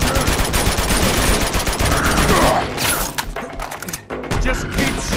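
Automatic gunfire from the Uncharted 2: Among Thieves video game, a dense continuous loud barrage with impacts and crashes that thins out briefly near the end, with no talking over it.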